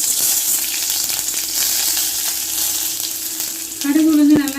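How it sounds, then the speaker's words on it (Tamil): Mustard seeds and urad dal frying in hot oil give a loud, continuous crackling sizzle close by. A few sharp pops stand out, and a tonal hum rises briefly near the end. "கடுகு உளுந்து நல்லா சிவக்க வறுக்கட்டும்"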